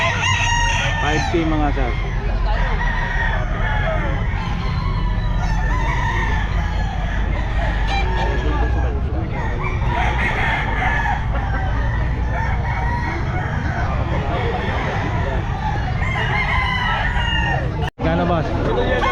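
A White Kelso gamefowl rooster crows loudly at a busy outdoor pet market, its repeated calls rising over constant crowd babble and other clucking fowl while someone speaks nearby.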